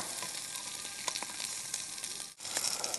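Chicken pieces for shawarma sizzle steadily in a hot pan, a loud, continuous crackling hiss with a brief dip partway through before the frying noise returns, with no talking.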